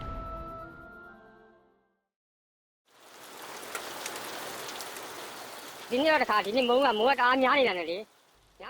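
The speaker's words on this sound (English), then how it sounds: "This year, there's been too much rain again, so we can't work in the fields." Heavy monsoon rain pours down steadily as a broad, loud hiss lasting several seconds, with a voice speaking over the downpour near the end.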